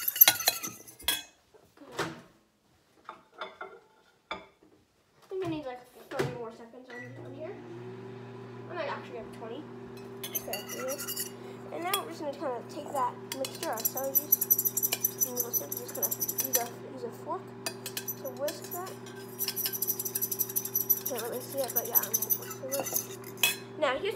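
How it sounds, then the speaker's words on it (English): A utensil clinks and scrapes against a bowl while ingredients are mixed, with irregular metallic taps over a steady low hum and people talking at times. "So let me mix that up."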